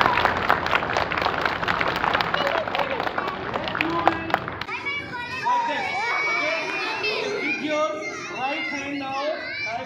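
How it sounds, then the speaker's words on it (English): A group of young children at a junior taekwondo camp at a school claps rapidly together for several seconds, then breaks into loud overlapping chatter and excited voices. "Very good. Clap for yourself."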